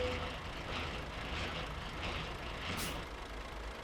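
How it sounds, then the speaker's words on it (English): In Euro Truck Simulator 2, a truck's air brake system charges with air, giving a continuous broadband hiss over a low engine rumble, with a brief sharper burst of air near the end. "we'll just let it charge up with a bit of air"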